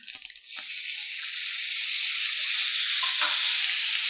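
Loud, steady sizzle of white sesame seeds and tomatoes hitting hot oil in a pan for kapuriya, a burst of crackling at the start settling into continuous frying hiss with no talk.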